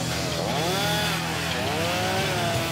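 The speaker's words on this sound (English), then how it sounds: "A chainsaw in this part of the country is a redneck's best friend." A chainsaw cuts a window opening into a wooden playhouse, its loud, close engine revving up and falling back twice in a row, with no voices over it.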